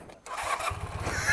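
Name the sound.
1982 Honda CB400 motorcycle engine starting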